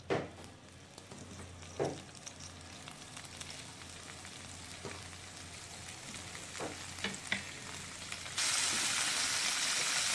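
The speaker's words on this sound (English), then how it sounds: "to this ghee now, I'm going to add my cut tofu pieces and just roast them" Tofu pieces roast in hot ghee in a pan with a steady crackling sizzle, punctuated by a few sharp clinks of stirring; the frying hiss swells louder over the last couple of seconds.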